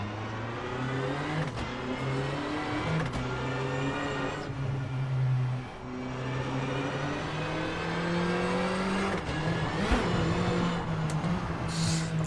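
A rally car in WRC 8 FIA World Rally Championship drives up a road, its engine droning steadily and rising through revs with brief gear-shift dips, loud and continuous.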